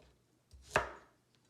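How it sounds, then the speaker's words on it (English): A single knife chop slices off the ends of green onions on a cutting board, one crisp, fairly close cut in an otherwise quiet kitchen. "First, we cut the end of the green onions."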